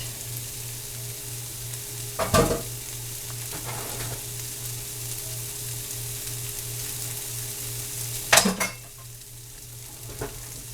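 Vegetables and frozen peas sizzle in a pan for fried rice, a steady frying hiss with two sharp bursts of stirring and clattering utensil scrapes against the pan.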